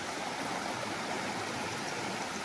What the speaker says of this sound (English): we're at our first creek crossing here